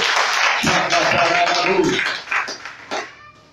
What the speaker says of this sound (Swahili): Hebu tukapigie Yesu makofi alasiri ya leo